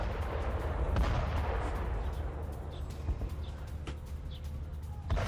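Artillery strikes on southern Lebanon, heard as a sustained low rumble of heavy fire with several sharper blasts standing out, loud and continuous throughout.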